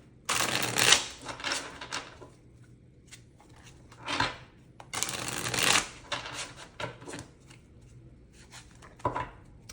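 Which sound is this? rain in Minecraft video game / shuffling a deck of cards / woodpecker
shuffling a deck of cards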